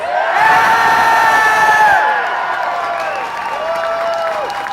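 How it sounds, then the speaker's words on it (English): A rally crowd in Belfast protesting the Conscience Clause Bill cheers and applauds its speakers, loud sustained whoops and shouts with clapping that swell, then ease off partway through. "Folks, how about another big cheer for our speakers?"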